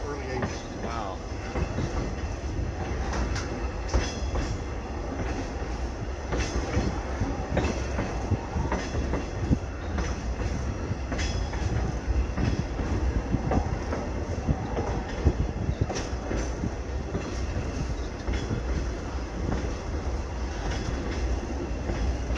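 A railroad caboose rolls over the tracks on a Southern Michigan line, with a continuous low rumble, rhythmic clickety-clack of wheels over rail joints and a faint squeal, heard from inside the car under occasional quiet voices.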